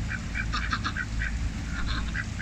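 A pet duck gives short, quick bursts of quacking at close range over a low background rumble, several calls in brief clusters.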